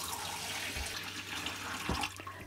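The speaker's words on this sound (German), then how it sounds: "Wir lassen mal ein bisschen Wasser ins Becken reinlaufen." Water runs steadily from a tap into a washbasin in the bathroom of a Concorde Centurion motorhome, a continuous hiss and splash with a couple of soft thumps, close by.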